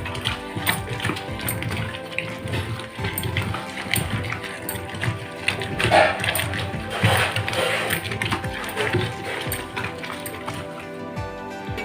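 Ridge gourd peel and coconut ground together into chutney in a kitchen mixer grinder, a steady dense whirring and clattering rumble running continuously throughout at fairly close range.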